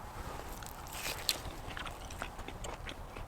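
Someone eats food inside a winter camping tent warmed by a pellet stove, with soft, close crunching and chewing bites over a quiet background, no one talking.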